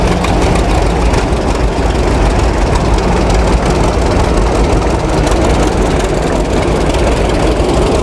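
A John Deere A two-cylinder antique tractor runs loud and close at a steady idle, its low engine drone continuous and even throughout with no talking.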